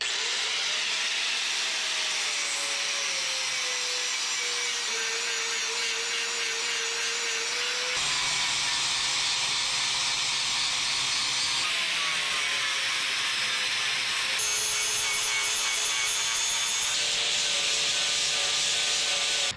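Angle grinder fitted with a flap disc grinding down welds on an LS-swapped S-10 pickup, a loud continuous abrasive whine and rasp that shifts pitch as the tool bears down, with no talk.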